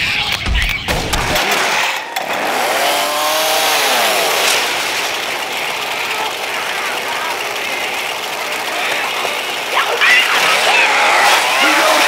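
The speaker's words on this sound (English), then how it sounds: "Chainsaw here." Chainsaw running in the video game Left 4 Dead 2, a loud buzzing engine drone with revving sweeps that continues steadily for several seconds, with voices talking over it.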